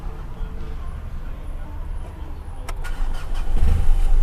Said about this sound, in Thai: ทุกคนได้ยินเสียงท่อไหมเอ่ย